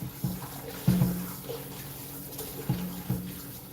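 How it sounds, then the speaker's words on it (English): Tap water runs steadily into a sink while fish is rinsed for pumpkin fish soup, with soft splashes and a few light clunks of handling over a continuous hiss. "We're cleaning it off with the water right here"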